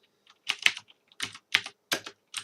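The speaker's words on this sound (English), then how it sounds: "I'm sorry if you hear the keyboard so loud because, I mean, it's a loud keyboard." Loud, clacky computer keyboard typing in short irregular bursts of keystrokes, close to the microphone, with brief pauses between clusters.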